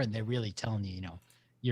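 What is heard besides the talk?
None of the usual background noises is heard.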